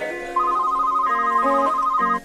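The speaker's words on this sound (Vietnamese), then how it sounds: "12 giờ tối anh gọi tiếng đổ nhạc chuông nhưng không trả lời" A phone ringtone plays during an unanswered late-night call, a steady electronic melody of sustained tones shifting pitch every half second or so, loud and clear with no voices over it.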